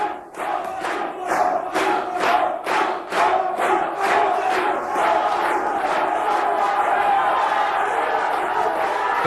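A Dutch crowd at the 1988 World's Strongest Man cheers and chants rhythmically for a strongman competitor, a loud, steady roar of many voices with a pulsing beat near the start.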